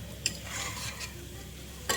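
Spices and yogurt being stirred in a cooking pot for dal khichda, with a soft continuous scraping swirl, faint sizzle underneath and two brief sharp clinks of the spoon against the pot.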